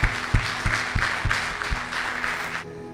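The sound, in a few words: church congregation applause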